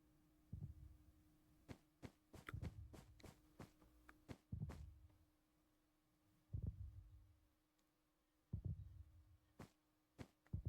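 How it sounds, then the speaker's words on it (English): Warden heartbeat in a hardcore video game world, deep muffled thumps in slow irregular pairs over a faint steady hum, with occasional sharp clicks and no voices. "Warden heartbeat."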